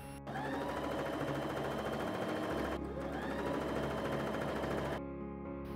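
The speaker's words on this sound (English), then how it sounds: "My sewing machine doesn't like sewing and I had to stretch the fabric to make it sew even" A home sewing machine stitching shoulder seams in velvet fabric runs loud and steady up close, a fast continuous whirring rattle with a brief pause midway before it resumes, then stops.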